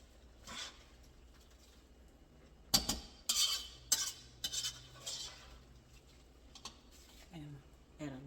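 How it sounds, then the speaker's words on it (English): A spoon stirs cabbage with ham seasoning in a pot, scraping and clinking in uneven bursts near the microphone, with quiet gaps between and a voice speaking briefly. "And we're going to stir all of this around."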